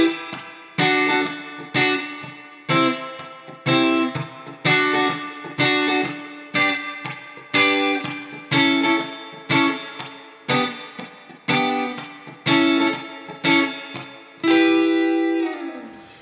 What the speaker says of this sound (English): the spring reverb is gonna give you that bite, that boingness, right, from the springs